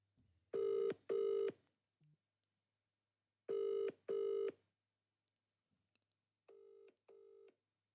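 A phone line rings out during a call, three pairs of electronic ring bursts separated by silence, the last pair fainter, with no one speaking.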